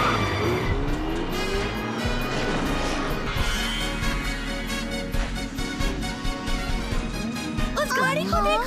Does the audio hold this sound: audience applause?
no